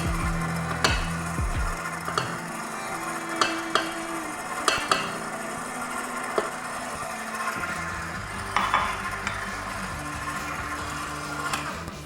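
Rye flour being mixed into a sourdough bread dough in a bowl, with a steady mixer-like whir and occasional knocks and scrapes, moderately close and with no talking.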